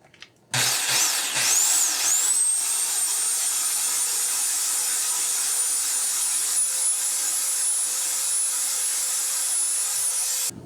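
A chainsaw started up and left running to test its oil pump, a steady high-pitched whining drone close by after a brief rev, holding constant for about ten seconds.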